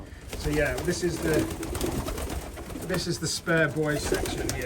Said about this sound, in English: Some lovely pigeons in here.